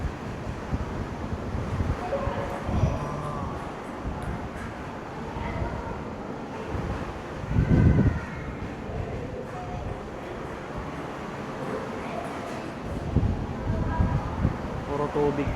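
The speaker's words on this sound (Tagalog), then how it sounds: "Dito to, lakas ng hangin" Strong wind at sea on a cruise ship deck roars and buffets the microphone in surging gusts, with people talking intermittently over the blustery rumble.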